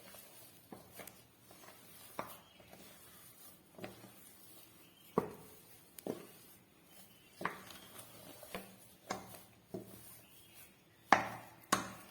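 Rice flour dough for noolputtu is stirred in a pot, a faint series of irregular scraping and knocking taps from the utensil against the vessel, quiet and close with no talking.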